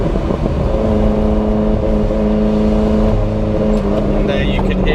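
The engine of a Ferrari Enzo replica drones loud and close from inside the car while driving, holding a steady note with slight irregular stumbles from a misfire. A voice talks over it.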